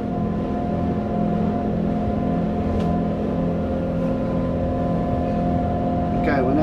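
A Seaward 39 motorboat cruises at 14 knots in semi-displacement mode, its engine giving a steady, loud, low humming drone with a constant rush of water.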